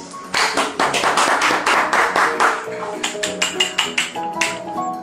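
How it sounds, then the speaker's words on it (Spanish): A burst of clapping and tapping at a book fair event, loud and close, first a dense flurry of hands, then thinner rhythmic claps tapering off, with voices and background sounds mixed in. "Eso sí se merece un aplauso"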